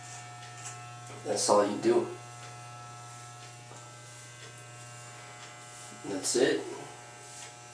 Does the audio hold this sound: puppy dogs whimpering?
no